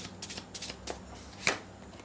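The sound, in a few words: tarot cards being shuffled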